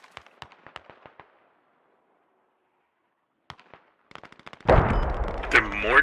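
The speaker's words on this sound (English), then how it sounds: "I have the perfect spot to watch this artillery strike" In the video game Squad, distant mortar artillery rounds thud and crack in scattered bursts. After a pause a heavy close blast roars in near the end.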